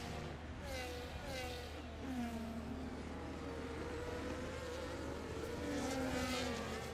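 Formula 1 race cars in an F1 video game at Monaco whine past in high-pitched sweeping engine tones, rising and falling as they pass, under a steady broadcast bed with faint commentary.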